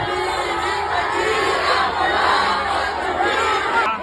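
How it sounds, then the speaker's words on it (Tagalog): A loud, dense crowd roars, shouts and boos continuously at a political event, a wall of many voices with no single speaker standing out. "Sa gitna ng ingay at pagbudito"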